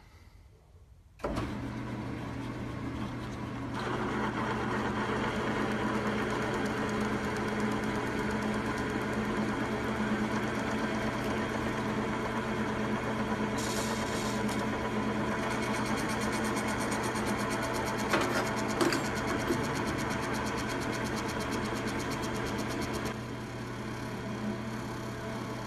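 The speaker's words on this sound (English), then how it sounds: "Slow down the lathe a little bit." Metal lathe turning a machine part, a steady mechanical drone and whine that starts abruptly after a moment of quiet and runs on evenly, with a brief rise in pitch partway through.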